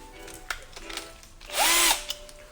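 A power drill with a 3.8 mm bit bores a hole in an HP Officejet Pro 8100 ink cartridge for a refillable ink conversion. Light handling clicks lead into one short, loud, whining burst of drilling, then a final click.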